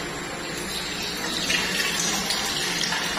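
Tap water runs in a steady, loud, hissing gush that splashes continuously from start to finish, close by and with no talking over it.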